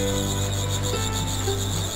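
Grasshoppers at a street market stall produce a dense, continuous, loud chirring drone with steady rasping texture, no voices present.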